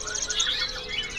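Young Asian pied starling (jalak suren) chick calling at a bird market stall, a short run of high chirps and warbling tweets over steady background hiss.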